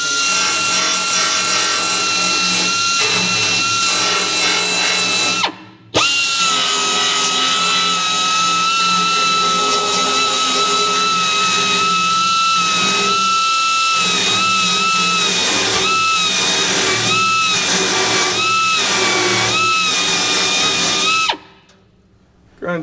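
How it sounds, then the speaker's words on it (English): Grinder stripping paint from the metal cab of a Power Wagon truck, a loud harsh whine with shifting pitch and grinding scrape, running nearly continuously with one brief stop midway before cutting off near the end. "Grind some of that paint off."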